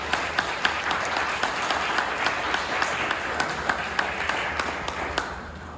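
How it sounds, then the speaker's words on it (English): An audience applauds to welcome a speaker at an artist lecture evening, a lively burst of many hands clapping with a few louder, sharper claps near the microphone that tapers off at the end. "can I get a round of applause to welcome Panteha Abareshi?"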